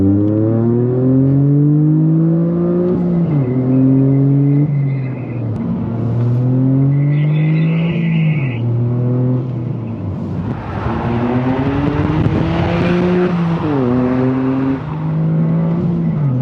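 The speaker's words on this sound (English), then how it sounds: "now with that drop-in air filter, we're getting that induction noise we wanted." A 2023 Toyota GR Corolla with a track-only exhaust and drop-in air filter revs repeatedly, loud and close, rising and falling in several pulls with raspy induction noise and a brief sharper burst near the middle.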